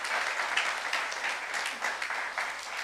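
A church youth congregation claps during a sermon, a dense steady patter of many hands that holds through the whole stretch at moderate distance, with no talk over it.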